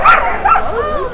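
Close, loud barks and whiny yips from huskies at a sled dog show, two quick yelps followed by a drawn-out whimpering howl.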